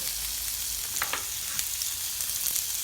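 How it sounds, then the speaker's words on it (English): Bacon and onions frying in a pan, a steady soft sizzle throughout with a few faint crackles, heard close and alone. "we're just going to soften the onions and the bacon"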